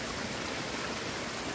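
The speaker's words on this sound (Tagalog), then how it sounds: "yung maliit na stream dito, may tubig siya guys." A small stream of flowing water runs steadily outdoors, a continuous close rushing wash with no break and no voices.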